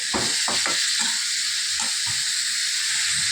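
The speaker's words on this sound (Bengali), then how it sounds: "এখন আমি পেঁপের ভিতরে আদা চামচ নুন দেব, আদা চামচ হলুদ দেব, দিয়ে এটাকে আমি ভালো করে কষিয়ে নেব" Papaya pieces stir-fry in a pan with salt and turmeric under a constant hiss. A few scraping strokes of a spatula land close early on, and the sound settles into a steady sizzle afterward.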